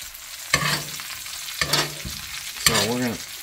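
A steak sears in a hot HexClad pan while butter is spooned over it. Steady frying sizzle swells in three bursts as the basting butter hits the meat, loud and close.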